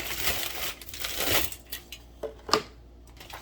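Aluminum foil being handled in a home kitchen while preparing baked jerk chicken: close crinkling and crumpling that is dense at first, then thins into a few sharp separate crackles before quieting.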